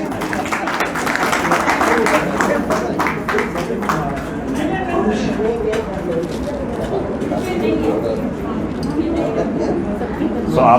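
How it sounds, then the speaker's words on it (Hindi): An audience at a Brahma Kumaris talk on kindness and compassion claps loudly and steadily for several seconds, dense applause filling the room. "इनके लिए जिनके हाथ में थाली नहीं है वो जोरदार से ताली बजाएं।"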